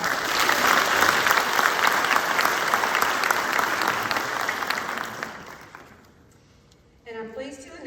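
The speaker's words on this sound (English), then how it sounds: "Let's give them a round of applause." An audience claps loudly and continuously, then the applause fades out and a voice begins speaking.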